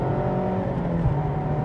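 A 2024 Mazda MX-5 engine pulls steadily under acceleration, a continuous close, full engine drone with a rising harmonic whine and no talk.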